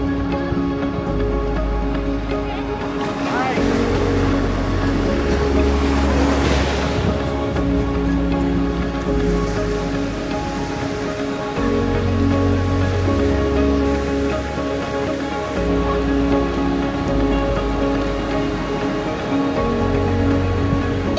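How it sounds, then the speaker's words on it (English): Ocean surf at a sunny Florida beach during spring break washes and rolls in repeated swells, a loud, steady hiss of breaking water and wind with no voices. "We're here for the beach."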